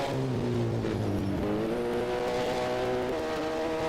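A race car at the Subida Internacional al Fito hill climb, a European Hill Climb Championship round in Spain, blasting past: a loud, continuous engine roar whose pitch climbs and shifts through the gears.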